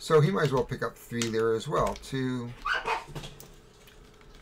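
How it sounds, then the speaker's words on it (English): Several dogs bark and squabble outdoors over a food cube, their sounds somewhat distant and broken, mostly under someone talking. "Pardon my dogs. They have a food cube out there, and they're fighting over it."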